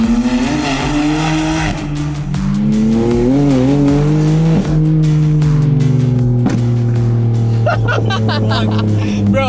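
Car with a flame tune revving hard, exhaust popping and crackling between throttle blips, loud and close with rising and falling engine tones throughout.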